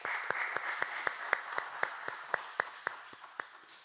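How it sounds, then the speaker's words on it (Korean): A church congregation at a Sunday worship service claps in a steady, even rhythm, about three beats a second, with sharp distinct claps ringing through the hall. "우리 하나님께 영광의 박수 올려드리시겠습니다"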